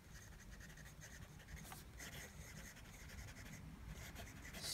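Retro51 Tornado fountain pen with a steel Schmidt medium nib writing wet Waterman Serenity Blue ink on paper: soft, faint scratchy strokes in short repeated bursts, close and quiet.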